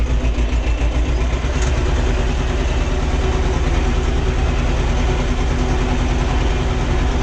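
A tractor pulling a crop sprayer drives through a barley field, its heavy engine droning loud and steady from start to finish with a constant rumbling texture and no voices.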